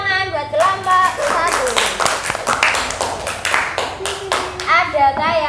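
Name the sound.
class clapping for a presenting group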